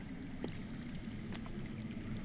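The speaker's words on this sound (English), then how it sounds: "I hear water. From underground?" Water runs steadily somewhere underground in a Game of Thrones video game, a faint, continuous pouring wash with no break in it.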